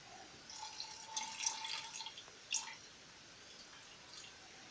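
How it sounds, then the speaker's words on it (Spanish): Water is poured into a glass that already holds a little coffee, in a short, light trickle lasting about two seconds with a brief splash, quiet and close up with no talking. "a continuación le aplicas un poco de agua, solo hasta la tercera parte del vaso."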